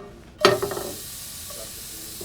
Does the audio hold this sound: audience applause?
no